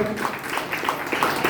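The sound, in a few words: audience applauding at church service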